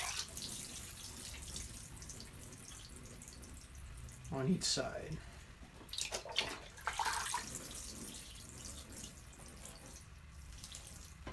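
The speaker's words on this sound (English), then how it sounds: "I'll come back and put water in the pipe to fill the reservoir" Water pours and splashes into a pipe, filling the reservoir of a Mittleider grow box. The gushing and gurgling rises and falls in bursts at close range while someone speaks briefly.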